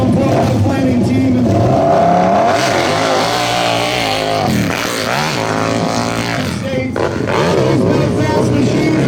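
A dirt bike at the Brick Mine Motoclimb hill climb revs hard and loud as it charges straight up the hill, its engine note rising and wavering over constant crowd noise.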